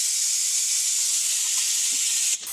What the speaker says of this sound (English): pull this trigger and have it suck the fluid through